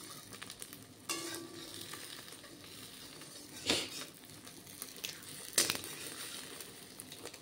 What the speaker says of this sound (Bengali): তো বন্ধুরা দেখতে পাচ্ছ তোমরা আমার ডিম ভাজা হয়ে গেছে